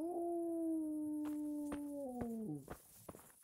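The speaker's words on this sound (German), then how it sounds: "Ach, das ist ein Hund." A dog howls in the medieval role-playing game Kingdom Come: Deliverance, a long, loud wavering howl that slides downward and then breaks into short yelps, with no voices over it.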